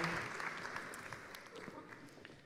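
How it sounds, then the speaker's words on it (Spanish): An audience applauds at the opening ceremony of a film festival in Valdivia, Chile, producing a dense, steady wash of clapping heard from a moderate distance for the full stretch, with a voice speaking over it. "Fuerte ese aplauso para don Milton Jiménez Castillo."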